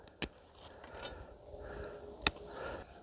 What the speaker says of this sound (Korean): 이제 거기에 맞는 이제 가위질이 들어가고요.